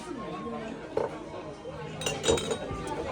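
Glasses clink together in a toast among a group of friends in Roppongi, Japan, two or three bright chinks spread over a few seconds, set amid lively chatter and cheering voices.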